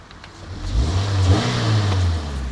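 A car engine revs up from idle, rising to a throaty roar and holding before easing back, heard close with no voices.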